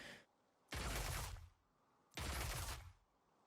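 Zeri, a League of Legends champion, firing her attack: two strong broadband bursts, each sustained for about 0.7 seconds and separated by a short gap, loud and close with a crackling electric texture.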